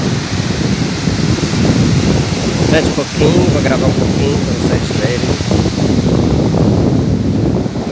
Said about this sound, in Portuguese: porque dá um ventinho friozinho, um ventinho gostoso.